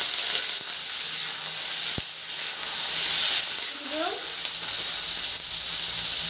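Half-boiled cauliflower florets fry in hot oil in a pan for a vegetarian cauliflower-potato dish, giving a loud, steady, close hiss with brief stirring clatter and a short voice partway through.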